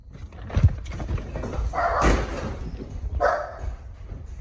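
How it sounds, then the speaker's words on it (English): Dogs bark indoors in a home as a man walks in, giving a couple of short, harsh bursts over a steady, noisy background. "The dogs are barking"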